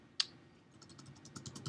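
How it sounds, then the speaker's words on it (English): Fast typing on a computer keyboard while entering a font path, a quiet run of light, evenly spaced key clicks with one sharper tap at the start, close by and without talk. "now we're going to type in FontAgent Pro fonts, and you'll want to type this exactly like you see it"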